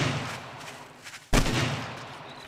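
Gunfire in the zombie survival video game 7 Days to Die: a single loud, sharp shot about halfway through, with a rough low rumble and scattered softer noises before it and a decaying tail after it.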